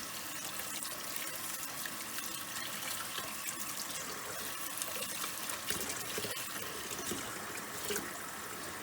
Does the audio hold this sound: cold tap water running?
yes